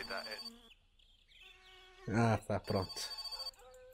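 Telephone ringing inside a farmhouse in the video game My Summer Car: a bright electronic ringing that comes back in bursts, with someone talking over it in the middle.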